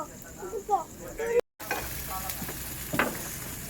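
Spice masala for ghugni fries in oil while being stirred, with a soft sizzle and scraping strokes in the pan and a brief dropout in the middle.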